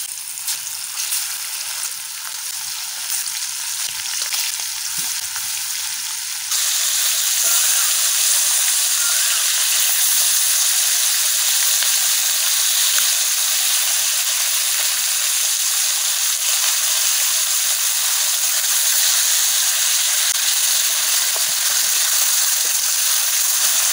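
Fish sizzles steadily in hot oil with a pinch of salt added, a dense continuous crackling hiss that grows noticeably louder after the first few seconds and then holds even, with no talking.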